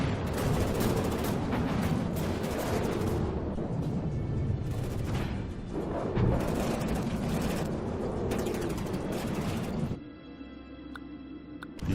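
Continuous cannon fire and heavy impacts roar through a From the Depths naval battle, a dense loud barrage that thins to quieter mechanical hum near the end.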